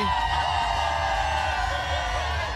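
A large, happy crowd cheers and whoops continuously along Oxford Street at the Sydney Gay and Lesbian Mardi Gras parade, a dense, loud, sustained roar.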